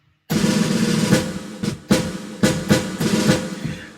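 Snare drum strikes in a loose rolling pattern over a sustained wash, with several accented hits standing out at irregular intervals.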